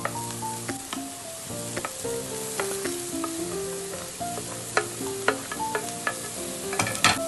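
Carrot, cabbage and potato frying in a pan while being stirred, with a steady sizzle under repeated scraping strokes, close and alone, with soft background music.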